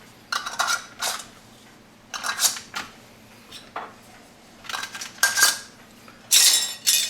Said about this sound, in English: we're just putting the bands on